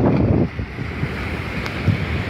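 Surf rolls onto Luzanovka beach in Odesa on a summer day while strong wind buffets the microphone with a loud, rushing roar. Gusts peak at the start and again near the end.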